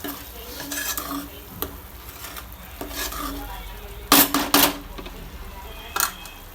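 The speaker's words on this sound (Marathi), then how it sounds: "चांगलं ते प्युरी शिजूपर्यंत त्याला हलवायचं" A spoon scrapes and stirs spinach puree in a pan with a soft sizzle, broken by several sharp metallic clinks against the rim.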